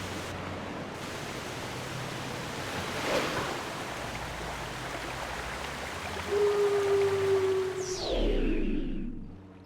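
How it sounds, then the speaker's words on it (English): Rushing river water in Zelda: Twilight Princess, a steady broad whooshing flow that swells louder near the end, with a faint tonal effect and splash-like sweep layered on top. "This water should flow all the way down to the lake."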